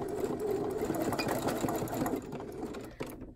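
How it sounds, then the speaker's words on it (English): A domestic sewing machine backstitches on woven fabric for a strappy tank top, a steady close whirring stitch run with a brief pause and restart near the end. "I'm gonna backstitch."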